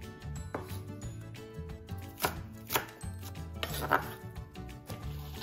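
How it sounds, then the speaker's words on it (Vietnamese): Green onions being chopped into short lengths with a knife while making Korean napa cabbage kimchi: a steady run of close, crisp blade knocks on a cutting board, with a few sharper, louder strikes and no talk. "Rồi đây là phần hành lá, mình cũng xắt ra khúc ha."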